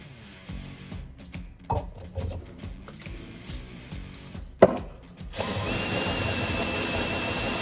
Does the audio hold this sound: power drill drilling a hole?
yes